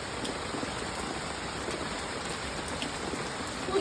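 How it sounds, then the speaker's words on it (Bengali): Heavy rain pours down at night in a steady, dense hiss of drops striking surfaces, loud and continuous with no voices over it. "প্রচুর বৃষ্টি, প্রচুর বৃষ্টি হচ্ছে"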